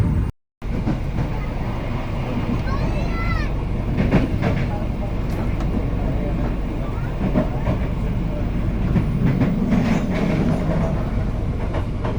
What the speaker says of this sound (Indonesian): sekarang kereta api Cikuray melambat sebelum stasiun Pleret